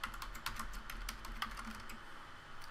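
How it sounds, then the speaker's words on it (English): Rapid, uneven keystrokes clatter on a computer keyboard, quiet and close, in short bursts with brief pauses. "excuse my bad typing"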